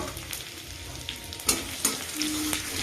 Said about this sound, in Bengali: এই যে আদাটা একটুখানি ভেজে নেবো।